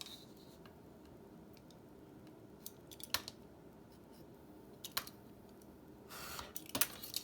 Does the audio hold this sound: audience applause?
no